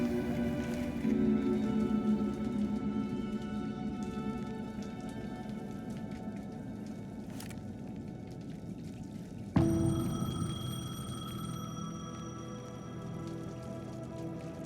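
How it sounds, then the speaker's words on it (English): A payphone rings in the rain-soaked night of the Alan Wake 2 video game, its bell starting abruptly partway through over a steady wash of rain pattering on surfaces. "The payphone was ringing."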